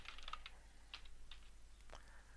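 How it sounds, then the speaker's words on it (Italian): Quiet keystrokes on a computer keyboard as a password is entered, a handful of light clicks in an irregular rhythm, close and alone. "clicco su login, digito la password"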